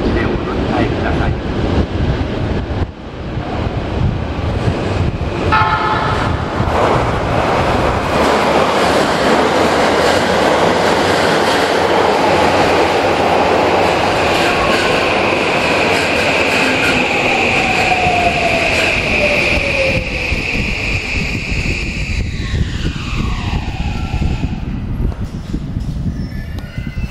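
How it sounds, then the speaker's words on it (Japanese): Toei Asakusa Line 5500 series subway train arriving at Takanawadai station: a loud, close rumble of wheels and cars with a rising and falling motor whine and squealing brakes as it slows, under steady tunnel noise. "泉岳寺行きが到着します。"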